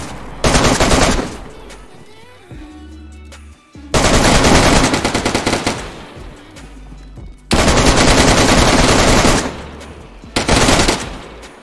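Loud bursts of automatic gunfire from the survival video game DayZ during a player-versus-player fight, rapid volleys in three long bursts and a short final one, with quieter gaps between.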